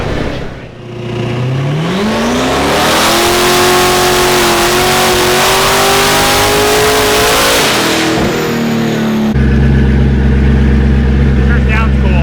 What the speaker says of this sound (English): The twin turbo ZR1s still have their own tone to them, you know?